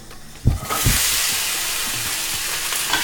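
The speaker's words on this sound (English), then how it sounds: "I'm just going to brown the meat separately in a pan." Lamb, 500 grams of it, hits a very hot pan with a teaspoon of rapeseed oil and bursts into a loud, close sizzle after a brief quiet moment, then keeps hissing strongly and evenly.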